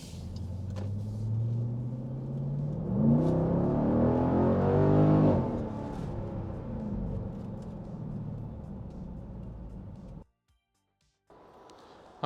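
A 2024 Dodge Durango SRT Alchemi driving, its engine and exhaust rising to a deep, swelling roar before settling into a lower rumble and cutting to a brief silence near the end.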